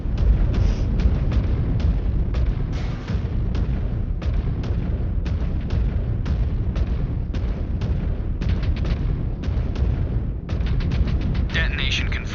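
A rapid series of sharp blasts and bursts of weapons fire rings out during a video game mech battle, packed closely together in a loud, steady barrage.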